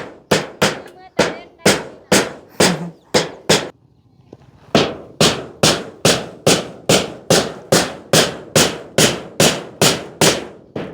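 Steady hammer blows strike nails while building a door, each one sharp and loud. A brief pause interrupts them before the rhythmic pounding picks up again, close by.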